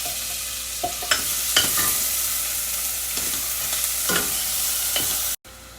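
Onions hit hot oil already seasoned with cardamom, bay leaf and cinnamon, frying in a steady close sizzle broken by several sharp stirring scrapes, with no voices.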